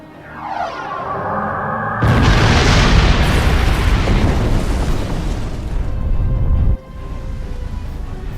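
Starship weapons fire in Star Trek Online: a rising sci-fi charge sweep, then a massive rumbling explosion that roars for several seconds before dropping to a lower lingering hum.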